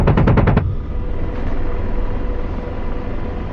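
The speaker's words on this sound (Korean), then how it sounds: "오른쪽에서 쏜다" Helicopter gunfire in the DCS World AH-64D Apache flight simulator: a loud, rapid burst of about six shots in the opening half second, then a steady rumbling wash of engine and rotor noise with no talk.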